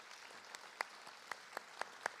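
Sparse, scattered claps from a board meeting audience applauding All-Region Honors Orchestra students: about half a dozen distinct hand claps spread over two seconds, quiet and thin, with no talking.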